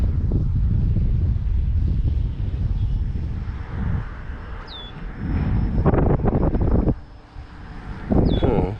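A Reptile Dragon 2 RC plane on 9045 props flying at half throttle: a steady buzzing motor whine under heavy gusting wind rumble on the microphone, with brief pitch swoops as the plane passes.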